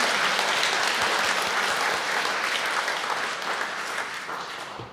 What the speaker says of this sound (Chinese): 咱应上热烈的掌声欢迎谢院长